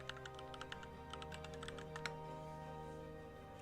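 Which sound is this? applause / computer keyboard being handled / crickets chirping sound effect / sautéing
computer keyboard being handled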